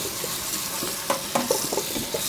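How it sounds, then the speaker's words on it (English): A watermelon rind being scrubbed clean by hand: soft, steady rubbing and scratching with a few sharper squeaky strokes, close and fairly quiet, with no talking. "So you just scrub your melon"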